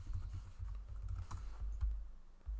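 Quick bursts of keystrokes on a computer keyboard, close and fairly soft, tapping in short runs with brief pauses and no voices.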